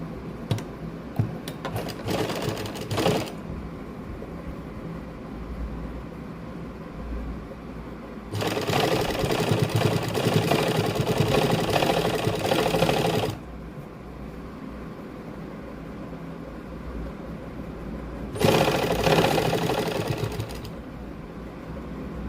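Close, loud whirring of a sewing machine stitching lace onto a fabric sleeve, running in three separate bursts separated by quieter pauses.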